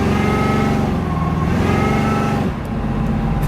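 A V8 S10 or supercharged Cutlass engine droning and revving close by, loud and sustained with a pitch dip midway and a rise again near the end, no talk.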